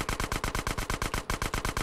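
Rapid automatic gunfire from GTA San Andreas rattles out in a steady, loud burst of evenly spaced shots, about a dozen in under two seconds, with no voices over it.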